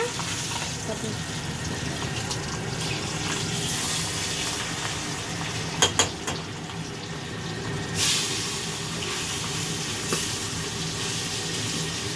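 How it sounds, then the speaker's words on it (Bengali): Hilsa fish pieces fry one at a time in a pan over lowered heat, a steady soft sizzle and bubbling with a few sharp clinks and pops partway through. "আর এই যে এগুলো একটা একটা করে ভাজবো, আঁচটা একটু কমিয়ে।"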